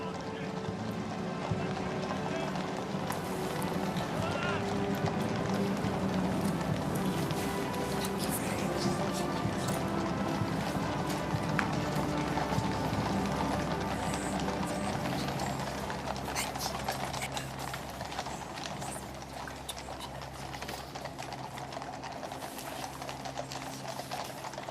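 Horses' hooves clatter steadily with jangling bridles as a royal procession arrives at the State Opening of Parliament, a dense, continuous outdoor din of many horses with crowd noise mixed in.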